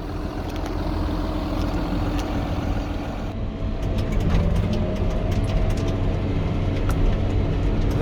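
A tractor engine runs steadily while driving during stubble cultivation for rapeseed, giving a loud, continuous low rumble with broadband mechanical noise and no talking.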